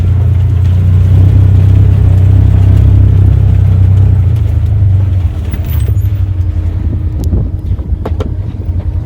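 A Can-Am Defender UTV engine labors up a steep incline, a loud, steady low drone with heavy wind buffeting that eases slightly partway through as the engine note drops. No one talks.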